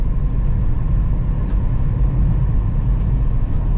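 A car drives steadily on a road circling a forested massif in Charente, its engine and tire rumble a loud, continuous low drone throughout with no talk.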